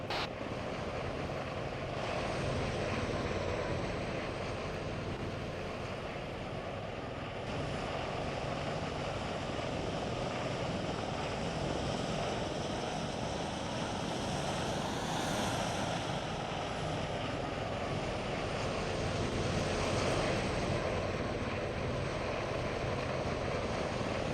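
A fixed-wing aircraft engine in the video game Arma 3, held at half throttle on a landing approach: a continuous, even propeller drone and rushing air with a slight swell midway, no voices.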